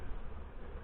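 Honey bees buzzing around a hive in a beekeeper's yard, a dense, steady hum filling the whole moment at close range.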